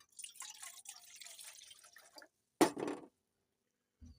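Water pours in a brief close splash into a pot on a stove, with softer trickling and dripping sounds before it and then quiet.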